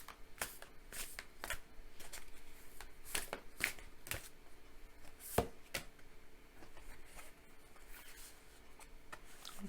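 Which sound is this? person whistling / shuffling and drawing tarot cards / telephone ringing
shuffling and drawing tarot cards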